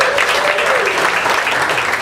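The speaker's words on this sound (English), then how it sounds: "Let's get it going for your bartenders and wait staff in here. Give them a round of applause." A comedy cabaret crowd gives bartenders and wait staff a loud, dense round of applause, sustained clapping filling the room, with a voice briefly rising above it.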